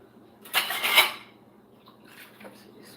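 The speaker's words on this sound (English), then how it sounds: "I'm gonna wash up my dishes now" Dishes and cutlery clatter and scrape as they are washed up in a home kitchen, a short close clinking burst followed by fainter rubbing and knocks.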